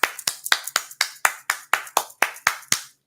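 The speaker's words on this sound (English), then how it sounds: "how is that a soul clap?" A lone pair of hands claps a so-called soul clap, about a dozen sharp, close, evenly spaced smacks at a brisk steady pace, each ending crisply in a quiet room.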